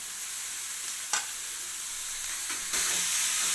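Shredded cabbage goes into a pan of onions and garlic fried until reddish for a cabbage palya, with a continuous bright hiss and sizzle that swells louder near the end as the vegetables hit the hot oil. No one speaks.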